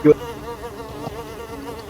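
A bee in the Roblox game Mimic buzzes steadily and close, a continuous drone with a brief louder burst at the very start.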